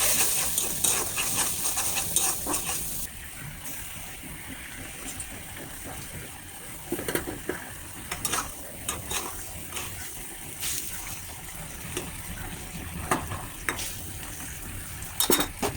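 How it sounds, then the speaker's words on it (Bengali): Baila fish curry cooking in a pan, with a gentle simmer and sizzle under occasional clinks and scrapes of a utensil against the pan, close and moderately loud with no talk. "পানিটা ফুটে ওঠার পর আমি বাইলা মাছগুলো দিয়ে আর মিনিট খানেক রান্না করে"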